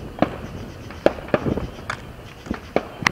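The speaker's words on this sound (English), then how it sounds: "these may be the best fireworks in Oklahoma" Fireworks burst outdoors in Plymouth, Oklahoma: a run of sharp, loud cracks and pops at irregular intervals, some close together, over a low rumbling background.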